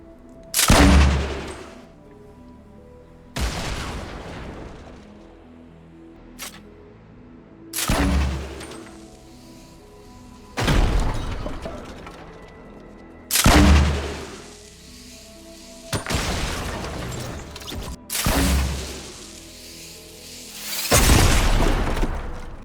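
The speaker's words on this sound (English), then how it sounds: "The grenade projectile sounds are incorrect, and it also has the incorrect VFX." Fortnite grenade launcher rounds fire and burst in a steady series of about eight heavy booms, each followed by a short decaying rumble, spaced a few seconds apart with no talk.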